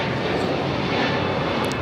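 A JetBlue Airbus A321neo jet airliner takes off at Los Angeles airport, a steady, loud, broadband engine roar that holds without a break from start to finish, with no voices over it.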